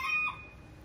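An Old English bantam rooster in a backyard coop gives a brief, quiet, high call at the very start that quickly fades into low background noise.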